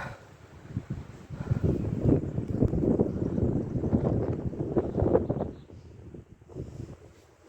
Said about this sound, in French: Il y a un petit peu de vent, mais ça va.